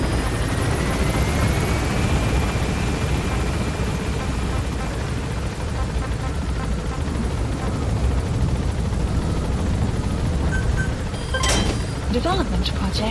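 A helicopter in Metal Gear Solid V climbs with a loud, steady rotor and engine roar that fills the whole stretch, a faint rising whine early on and a few clicks and electronic beeps near the end.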